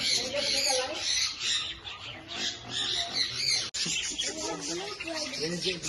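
Birds at a bird experience park squawk and chirp in scattered bursts, partly masked by people talking nearby.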